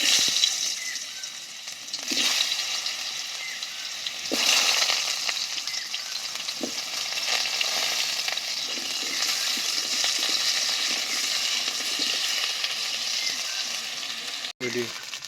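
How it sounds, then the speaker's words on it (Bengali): Potatoes frying in hot oil in a wok, a steady broadband sizzle running throughout with occasional louder crackling bursts and scraping stirs, close and fairly loud. "তেল গরম হয়ে গেছে, তেলের মধ্যে আলুগুলো দিয়ে আমি ভেজে নেব।"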